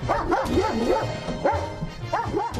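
A police canine unit dog barks and yips repeatedly at close range, rapid excited bursts filling the whole stretch with little pause.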